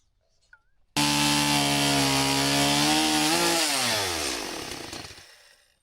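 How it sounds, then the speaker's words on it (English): Chainsaw with a dull chain cutting wood for a shed build, a loud steady whine that starts abruptly, sags in pitch midway as the bar bogs into the cut, then fades out. "that chain needs to be sharpened."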